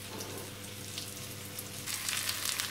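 Onion fries in a pan, turning golden and translucent, with a steady close sizzle that grows louder and brighter toward the end.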